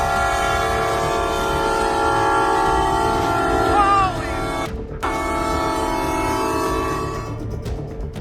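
A train's long, loud horn blares continuously at a railway crossing where it strikes a car pulling a trailer, wavering briefly before a sudden cutoff and a rumbling rail clatter.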